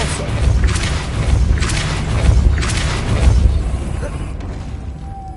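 A Depulso spell cast in Hogwarts Legacy, heard as a few loud whooshing, booming bursts over a steady rumbling game backdrop before fading out.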